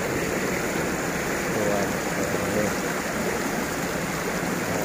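Cool water in a stream in Karangharjo village, Glenmore, Banyuwangi, rushes with a constant broad hiss, close and unbroken throughout.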